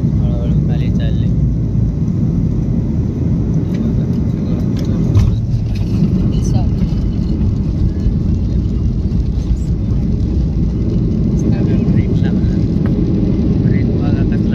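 A passenger plane lands and brakes hard on the runway, heard from inside the cabin as a loud, continuous low roar and rumble with no breaks.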